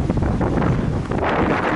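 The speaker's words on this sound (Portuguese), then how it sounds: "Um pouco de vento aqui já." Steady wind buffets the microphone on a street in an upscale Miami neighborhood, a continuous close roaring rush without pauses.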